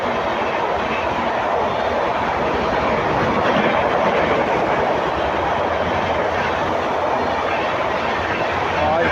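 The Bhagat Ki Kothi Superfast Express 20484 roars through a station without stopping, a loud, steady rush of wheels and carriages close by that fills the whole stretch, with a voice faintly under it.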